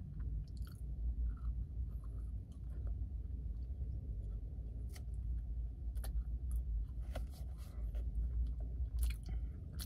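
Chewing a cupcake-flavoured Pop-Tart: close, steady mouth sounds with soft crunches and moist smacks, scattered irregularly over about ten seconds against a low background rumble.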